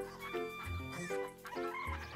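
Chickens cluck in a farmyard in a cartoon, a string of close, throaty clucks and short squawks repeating in uneven bursts with no talk over them.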